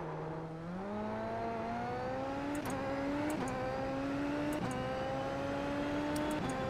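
A Super Formula SF23 single-seater engine revs steadily upward in first gear during a launch-control start, the tone rising in clear harmonic steps with brief shifts in pitch, loud and close with no talking.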